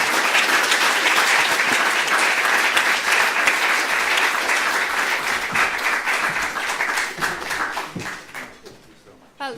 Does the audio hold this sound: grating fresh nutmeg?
no